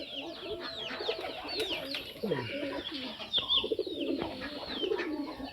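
Field pigeons kept at a home farm coo in low, repeated calls over several seconds, mixed with faint clucking of other fowl in a quiet courtyard.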